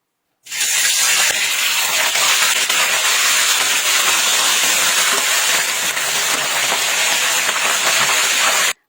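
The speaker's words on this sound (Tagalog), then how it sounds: "So inasinan ko na po itong ating isda at saka natin ito ipiprito" Fish, salted beforehand, sizzles in hot oil with a steady, loud, dense crackle and spatter that runs unbroken for several seconds, close by, with no talk over it.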